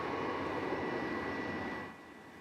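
An Alaska Airlines airliner at DFW Airport gives a loud, steady roaring engine rush that holds strong, then eases off near the end, with no talking.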